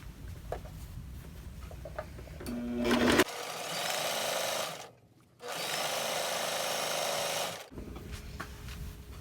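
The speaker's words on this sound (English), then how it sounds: "take it over to my machine, and stitch that seam" Sewing machine stitching a quilt seam on a wonky log cabin block, two steady whirring bursts of several seconds each separated by a brief pause, close and fairly quiet.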